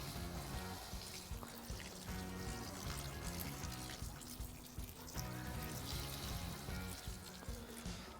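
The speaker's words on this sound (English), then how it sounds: "we'll give them a wee water with water from the kettle" Water pouring steadily from a kettle onto soil around newly planted strawberries, a continuous trickling splash that runs for several seconds with no talking.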